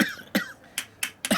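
A person coughs several times in quick succession, four or five sharp, close bursts spaced across a moment of quiet, with no talking between them.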